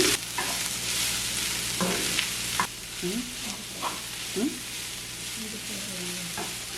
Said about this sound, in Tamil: போட்டு இதை நல்லா மிக்ஸ் பண்ணி இதை வறுத்தெடுப்போம்